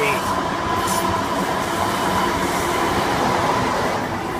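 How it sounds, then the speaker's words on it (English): XPT passenger set XP 2000, with the NAIDOC-liveried XP 2004 locomotive trailing, roars steadily past at East Maitland with a loud, dense rumble and whine of wheels on rail, unbroken throughout. "and XP 2004 the NAIDOC Locos trailing."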